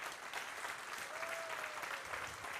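A live seminar audience gives a short burst of steady clapping that stays at an even level from start to finish, with no voices over it.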